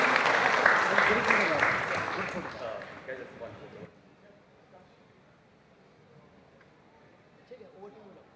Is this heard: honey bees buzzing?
no